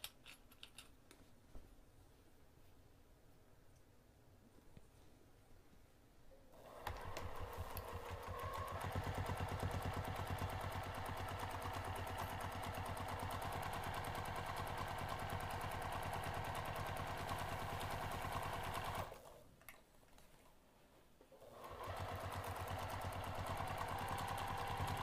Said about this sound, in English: we're going to sew this pinned edge using a 1/4 inch seam allowance all the way around.